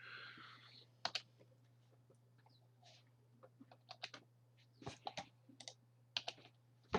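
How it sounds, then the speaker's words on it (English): Keystrokes on a computer keyboard, typed into a Chrome address bar: scattered, irregular clicks, some in quick bursts, moderately close over a steady low hum, with no talk. "I thought I might have been typing Q into the address bar"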